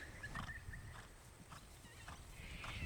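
A horse canters during a riding lesson, its hoofbeats soft, faint and rhythmic in the distance against a quiet outdoor background.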